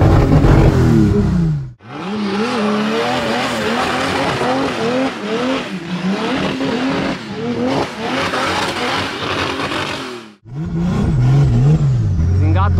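A turbocharged Chevrolet Opala engine revs hard and loud, climbing in pitch, briefly cutting out for gear changes, then pulling again up close, with a voice talking over it.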